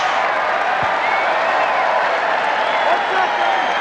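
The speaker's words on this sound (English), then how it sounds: "that's the loudest cheer you'll ever hear for a made free throw" A big arena crowd at a Northwestern at Ohio State college basketball game roars after a made free throw, a loud, sustained, dense cheer with no break.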